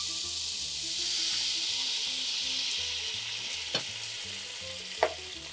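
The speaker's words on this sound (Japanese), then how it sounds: "こうちょうどね水分が4分の1ぐらいになってくるぐらいまで中火で待ちます。" Tomatoes, olives and white wine simmering over medium heat in a pan, a loud continuous sizzle and bubbling hiss with a couple of small pops, close up and without talk.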